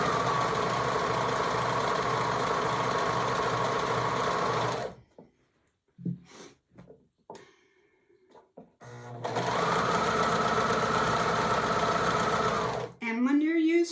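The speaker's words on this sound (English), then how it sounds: "when you're using your serger, don't stretch your fabric. Just let it feed in there." Serger sewing a fabric hem, a loud rapid mechanical whirring that runs for several seconds, stops with a few soft clicks and handling noises, then starts up again and winds down near the end, close by.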